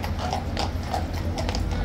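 A large, fluffy horse with enormous hooves clip-clops steadily on a hard surface, close and fairly loud, with brief voices underneath.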